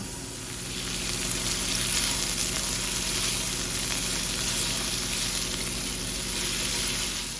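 Thick-cut bacon pieces frying in a pan, giving off a dense, even hiss and crackle that holds steady at close range with no voices.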